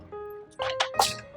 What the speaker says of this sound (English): and I pour it into my bucket, my watering can actually.